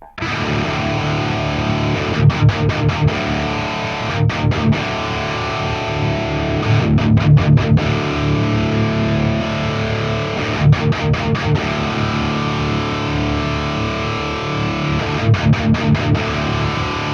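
Distorted electric guitar through a Bogart amp on its Turbo Raw setting, a thinner, less bassy tone, playing a steady loud riff punctuated by repeated bursts of quick staccato chugs.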